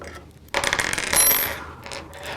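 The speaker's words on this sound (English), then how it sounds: "we use our hex key wrench to loosen up the bolts, the button head cap screws on the super air knife body" Metallic clinks and rattles from loosening the button head cap screws on an EXAIR Super Air Knife body with a hex key wrench, a close, busy burst of small metal contacts lasting about two seconds.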